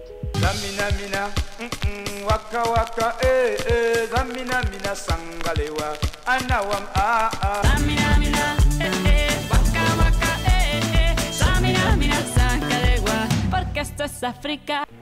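An original African champeta song plays loudly, with bright guitar lines, punchy percussion and a fuller bass-heavy groove kicking in midway.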